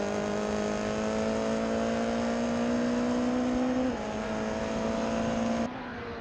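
MRF 2000 single-seater race cars scream past at turn 8, a loud sustained high engine whine with slight pitch shifts and a sharp drop near the end, no talk.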